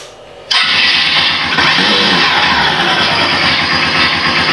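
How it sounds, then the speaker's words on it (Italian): A Super Soco TC Max electric motorcycle plays an app-driven engine sound effect through a speaker, kicking in abruptly with a loud start-up burst and then holding a steady, rumbling idle-like drone. "Mi piace perché anche quando si spegne fa proprio come un motore."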